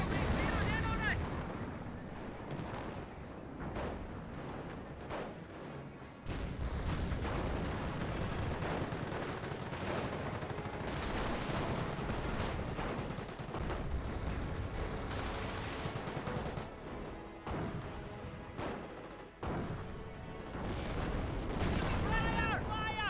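Company of Heroes battle with gunfire and artillery, a continuous roar of shots, rumbling blasts and rapid bursts that stays loud throughout, with game unit voice lines mixed in.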